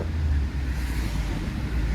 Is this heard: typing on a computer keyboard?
no